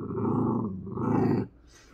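A dog growls at its own reflection in two long, loud, rumbling bursts separated by a short breath, ending abruptly into near silence.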